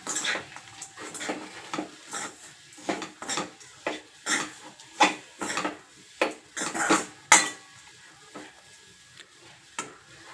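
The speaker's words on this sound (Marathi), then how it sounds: "असा थोडासा गुळ घ्यायचा तो टाकायचा आणि तो असा मिक्स करून घ्यायचा त्याच्यामध्ये" Bitter gourd cooking in a pan with jaggery as a utensil stirs and scrapes it, giving a steady run of close, sharp metallic clinks and scrapes in an uneven rhythm, with no voices.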